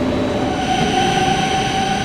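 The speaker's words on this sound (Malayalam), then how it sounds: "ഓരോ പ്ലാറ്റ്ഫോമിൽ നിന്നും ട്രെയിനുകൾ പല വഴിക്ക് പോയിക്കൊണ്ടേയിരിക്കുന്നു." Trains at a railway station platform in Slovenia make a steady, loud rumble with a sustained tonal hum and faint squeal, continuous throughout with no voices.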